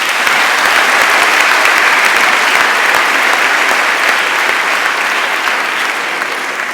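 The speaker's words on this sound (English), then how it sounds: "Let's give them applause." Loud, dense applause from an audience at a school graduation ceremony, a close, continuous roar of clapping that fades slightly toward the end.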